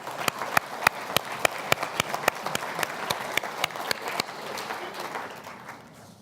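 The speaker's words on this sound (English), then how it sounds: "Let's give him a round of applause, please." Audience at an awards gala dinner applauds: dense, close clapping with sharp individual claps standing out rhythmically, fading slightly toward the end.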